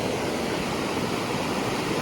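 A jungle waterfall in Nong Khai, running high after rain, gives a steady, dense, close rush of falling water with no voices.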